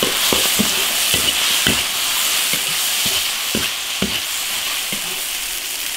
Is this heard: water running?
no